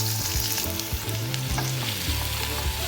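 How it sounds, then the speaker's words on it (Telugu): Two medium onions and half a tablespoon of cumin seeds fry in hot oil for paneer bhurji, giving a steady close sizzle with the scrape of stirring throughout. "ఆనియన్స్ లైట్గా కలర్ చేంజ్ అయ్యేంత వరకు ఫ్రై చేసుకోవాలి."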